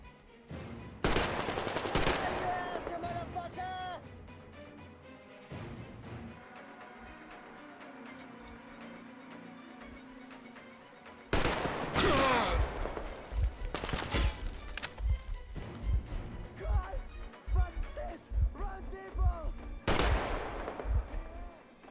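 Rifle gunfire in Metro Exodus, with bursts of loud, sharp shots in rapid clusters and a quieter stretch of rumbling game ambience in between.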